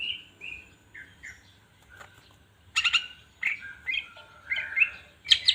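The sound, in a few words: green leafbird (cucak ijo) chirping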